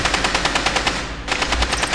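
Rapid automatic gunfire rips through a wall in the tactical shooter Rainbow Six Siege, a loud, close, steady stream of sharp shots with a brief pause midway, heard with no talk.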